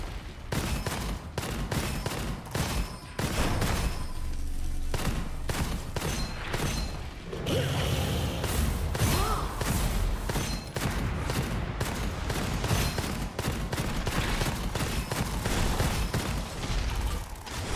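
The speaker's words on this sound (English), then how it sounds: "it takes so many shots to just kill a beetle" Rapid, relentless gunfire fills a video game fight against beetles, sharp shots repeating in quick bursts with mechanical clacks and booms throughout, loud and continuous.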